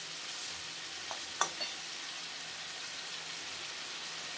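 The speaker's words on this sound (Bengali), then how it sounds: "এবার একটু মশলাগুলোর সঙ্গে মাছগুলো একটু আবার কষিয়ে নিই" Katla fish pieces frying with spices in a pan, a quiet, steady sizzle with a couple of brief utensil clinks near the middle.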